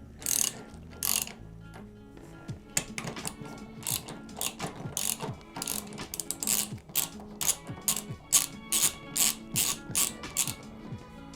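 A ratchet wrench loosens the rear wheel nut on a motorcycle, giving quick bursts of sharp clicking strokes in an uneven rhythm, close and fairly quiet with no talk.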